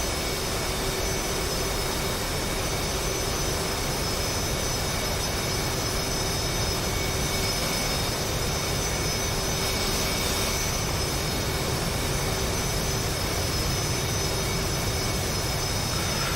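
A jet aircraft lands in a flight simulator game during a Christmas formation flight, its engine a steady, loud, unbroken roar with a faint high whine running through it.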